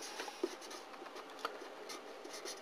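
Maths working written by hand on paper for an AS-level calculus problem, giving a steady soft scratching of pen strokes with small taps, close and quiet, with no talking.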